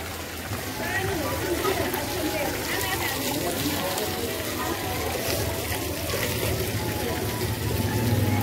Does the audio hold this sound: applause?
no